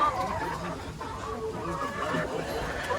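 Backyard chickens clucking and murmuring close by, uneven soft calls running through the whole stretch.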